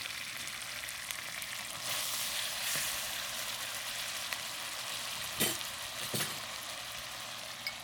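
Pork and broccoli stir fry sizzles steadily in a hot pan with white pepper and sesame oil, a continuous frying hiss with a couple of brief clanks or stirring knocks near the end.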